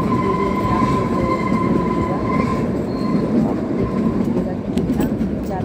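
A train runs at a railway station near Shimla: a loud, continuous rumble of wheels and carriages with rhythmic clatter and brief metallic squeals, heard close by throughout.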